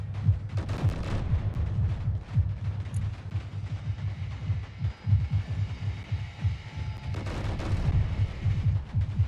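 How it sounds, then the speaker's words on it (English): Rockets strafing a target in Space Engineers: a rapid, uneven string of loud, booming blasts that rolls on for several seconds, with a heavier cluster near the end. "Strafing him with rockets."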